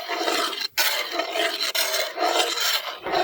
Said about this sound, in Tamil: ரவையை வந்து அப்படியே கிண்டிக்கிட்டே இருக்கணும்.